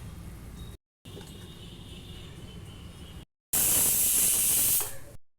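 Water poured into a hot pan while cooking stuffed brinjal gives a loud spraying hiss in short bursts broken by silent gaps, the last burst the loudest before it fades out.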